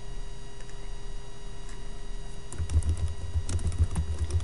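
Someone types on a computer keyboard, with soft scattered key clicks at first that turn into a denser run of tapping near the end, heard close and fairly quiet over a steady background hum.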